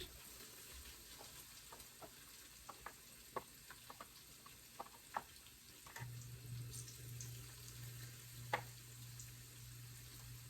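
Heart of palm pieces frying in grease in a skillet, a soft continuous sizzle with scattered pops and crackles, moderately near, the frying swelling louder partway through, no talking.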